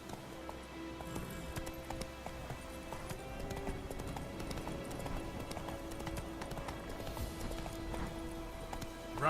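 A horse gallops in The Witcher video game, steady clip-clop hoofbeats running continuously at close range over game music and ambience, with no talking.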